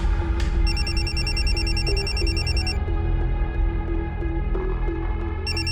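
A telephone ringtone chirps in repeated electronic bursts, clear and steady over a low background hum and room noise, with no talking during the ring.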